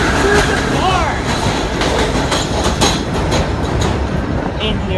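D subway train passing through Fort Hamilton Parkway station, a loud close rumble with rhythmic wheel clatter and faint squeals over five seconds, a voice talking underneath.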